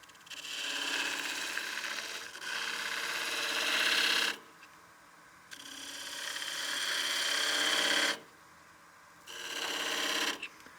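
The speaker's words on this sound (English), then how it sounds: "I'm going to use my spindle gouge to go in there and just clean that up and straighten everything out" A spindle gouge cuts a partially seasoned wooden bowl spinning on a lathe, cleaning up a dovetail recess, making a steady hissing scrape in three long passes with short pauses between them.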